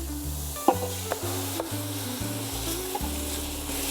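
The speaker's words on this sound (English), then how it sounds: "So we'll saute these for a couple of minutes." Ground beef and aromatics sautéing in a pan for pasta al forno, with a steady close sizzle, a few stirring scrapes and clicks, and a low hum beneath.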